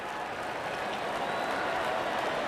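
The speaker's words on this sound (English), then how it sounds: "And there comes the celebration and the crowd loves it." Stadium crowd noise from the cricket video game Real Cricket 22 at Wankhede, India versus Pakistan, celebrating a wicket: a steady, fairly faint wash of applause and cheering with no voices standing out.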